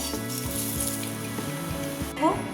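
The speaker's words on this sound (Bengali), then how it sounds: "দেখো, তোমাদের সঙ্গে গল্প করতে করতে আমার পটলের খোসাটা কিন্তু ভাজা প্রায় হয়ে এসেছে।" Pointed gourd peels frying in a pan with oil, a soft continuous sizzle and crackle under quiet background tones, with a small stir or clatter near the end.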